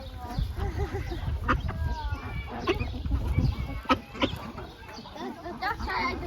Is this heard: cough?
no